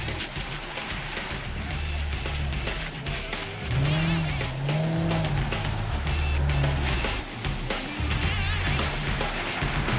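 A car driven hard through a figure-8 and slalom course in a motorsport competition, its engine droning and rising steadily with tire noise throughout, loud and continuous.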